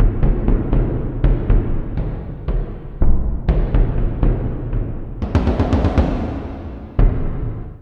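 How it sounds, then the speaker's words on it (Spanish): Sampled Irish bodhran frame drum with reverb added, played as a steady run of deep hits with brighter accented strokes, the strikes getting denser toward the end, each ringing into a wash of reverb with no voices. "Por acá podemos agregar reverb."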